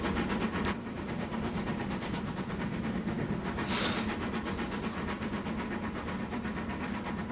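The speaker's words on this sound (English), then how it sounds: "And you can see passenger train is just going to whiz along now." Passenger train whizzing along a line in the video game Transport Fever 2, a steady rolling rail rumble with a brief hiss midway, continuous and without talk.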